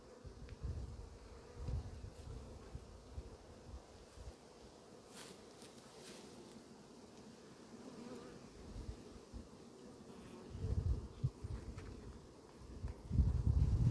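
Honeybees of a local strain hum in a steady, close swarm buzz during an October hive inspection, with low rumbling handling noise swelling at times.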